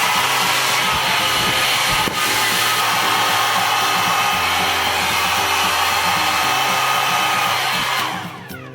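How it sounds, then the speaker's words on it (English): A handheld hair dryer blows hot air at the hair roots during a blow-dry, giving a loud, steady, close-up roar that holds almost unchanged before easing slightly at the very end. "So you are going to do the blow dry on the roots."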